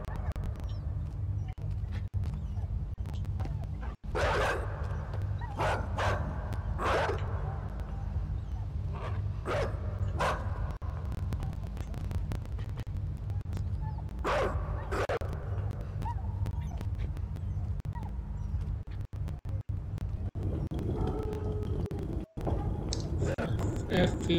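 A dog in the video game Inside barks in scattered sharp bursts over a constant low droning hum, some barks closely bunched and others spaced several seconds apart.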